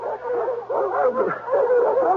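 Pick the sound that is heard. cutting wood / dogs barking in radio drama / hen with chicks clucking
dogs barking in radio drama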